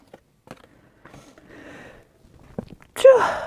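Quiet sniffs and breaths build up, then a single loud sneeze bursts out at the end.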